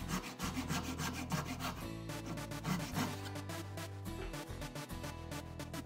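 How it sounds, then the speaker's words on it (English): A crosscut handsaw rasps through a walnut coffee table shelf in steady back-and-forth strokes, close and continuous with a rhythmic push-pull pattern and no talking. "using my crosscut saw, I cut deep enough for the teeth to be embedded"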